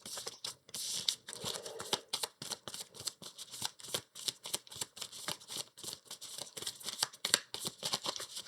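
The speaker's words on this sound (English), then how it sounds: "so we just shuffle these in" A deck of Earthborne Rangers game cards is shuffled up close, giving a steady run of quick papery riffles and snaps that continue for several seconds with no one speaking.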